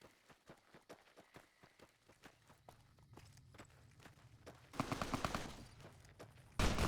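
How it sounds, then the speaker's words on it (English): Gunfire in Fallout: New Vegas out in the Mojave Wasteland, faint footsteps, then rapid bursts of shots that grow louder and closer toward the end. "Oh, hey, shooting."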